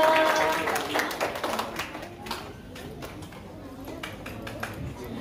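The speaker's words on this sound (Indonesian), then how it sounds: "Beri tepuk tangan yang meriah untuk Annabella Karma Christina" An audience claps for a child storyteller at an Indonesian storytelling event, a burst of applause that is loudest at first and then thins into scattered claps.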